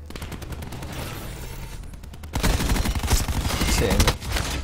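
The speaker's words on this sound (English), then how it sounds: "a little fucking nade that explodes into little mini nades" A cluster grenade bursts into mini grenades in Black Ops 4, setting off a rapid volley of blasts and crackling pops. A sudden louder, denser burst about halfway through follows lighter rapid fire and continues to the end.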